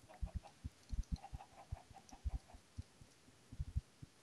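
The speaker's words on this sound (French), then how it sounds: "C'est moi ou il y a les poules qui sont en train de se barrer?" Chickens cluck close by outdoors, giving a run of soft, low, irregular clucks and short bursts. The sound continues steadily with no speech over it.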